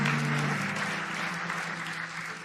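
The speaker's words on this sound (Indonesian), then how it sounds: "beri tepuk tangan dong buat Tuhan kita Yesus Kristus" A congregation at a Sunday church service applauds steadily, a dense wash of clapping from a crowd that holds at an even level for a few seconds.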